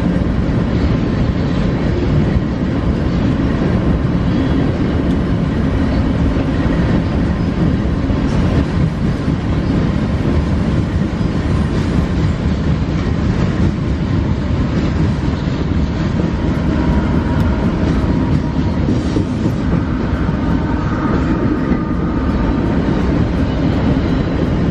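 A freight train with a mid-train DPU rolls past on the tracks at twilight, a loud continuous rumble of wagons with clickety-clack wheel beats that holds steady throughout, and no voices.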